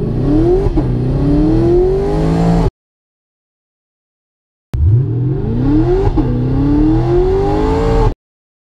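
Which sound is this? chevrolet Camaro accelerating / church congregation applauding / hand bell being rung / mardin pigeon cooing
chevrolet Camaro accelerating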